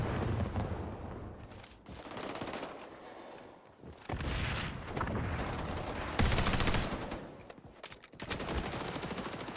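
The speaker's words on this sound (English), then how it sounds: "Shotguns." Shotguns fire in the online shooter XDefiant as loud, dense bursts of blasts that come in repeated volleys with brief pauses, heard up close and layered over each other.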